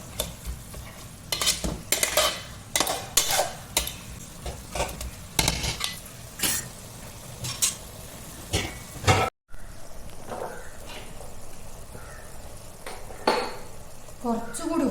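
A spoon stirs onions and tomatoes in a pot for beef biryani, with a run of sharp metallic scrapes and clinks over a low frying sizzle, close and fairly loud. A short gap near the middle is followed by softer stirring.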